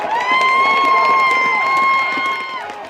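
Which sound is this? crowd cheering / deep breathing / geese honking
crowd cheering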